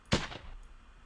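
A single gunshot in the indie game Sanctum, one sharp close crack with a brief decaying tail, heard alone.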